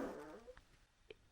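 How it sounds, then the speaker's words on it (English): A baby passes gas in one short, low, rumbling burst right at the start. It is fairly quiet, followed by a few faint small sounds and near silence. "Did you all hear that bottom burp"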